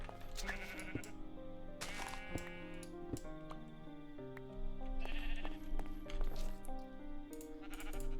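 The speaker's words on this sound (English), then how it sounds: "Hello, sheep. We meet again." Sheep bleat repeatedly in a block-building video game, over a steady bed of game music, with several clear bleats spaced across the span.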